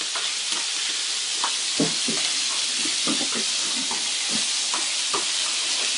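Meat searing in a hot pan for a meat curry casserole, a steady loud sizzle and hiss with scattered crackles and pops, no voices.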